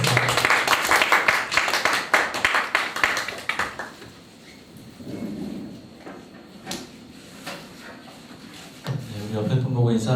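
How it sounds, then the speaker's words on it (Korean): A church congregation at a Sunday worship service claps to welcome the pastor, a dense burst of hand claps for the first four seconds that then fades into quieter room noise with some talking. "우리 목사님 나오실 때 박수로 환영하도록 하겠습니다"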